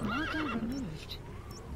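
A horse gives a loud, close whinny in Metal Gear Solid 5, a wavering neigh lasting about a second, followed by softer snorting and faint hoof movement.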